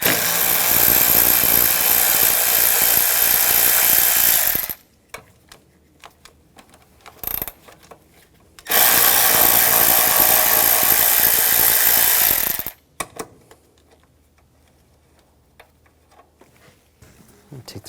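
A 10mm socket ratchet working nuts loose on a 2009-2013 BMW 328i xDrive with the 3.0L inline-six, heard as two long bursts of rapid, loud clicking separated by quieter handling noises, plus a brief burst in between.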